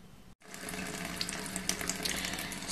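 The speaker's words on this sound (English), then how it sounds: "So I'm now at my sink and I've got my brushes with me, I've got my water pots" Tap water running into a kitchen sink for rinsing paint brushes and water pots, a brief click then a steady close splashing gush with light spattering, continuous and without talk.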